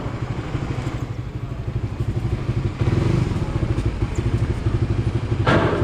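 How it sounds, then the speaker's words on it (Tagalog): A motorcycle engine idles nearby with a steady, rumbling putter, revving slightly partway through, loud and continuous. "Hindi matahimik motor dyan eh."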